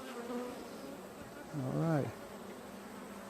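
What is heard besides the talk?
honeybees buzzing during hive inspection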